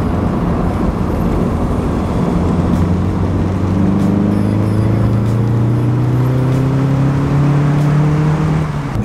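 Nissan 240SX S14 driving, its engine a steady loud drone with rising harmonic sweeps as it accelerates through the gears, heard from inside over continuous road noise.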